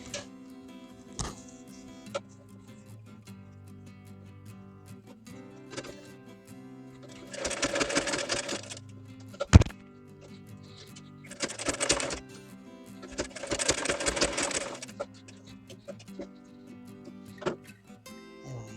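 A sewing machine stitching fabric for a little girl's top runs in three short bursts of rapid mechanical chatter, separated by quiet pauses with occasional clicks and handling knocks.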